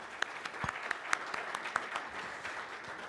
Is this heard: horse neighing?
no